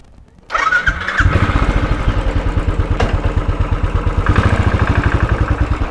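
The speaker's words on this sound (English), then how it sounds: "heading out with the bike to ride through the city" Motorcycle engine starting and then idling with a steady, rapid putter, close and loud, in a hot coastal town before a ride through the city; no one speaks.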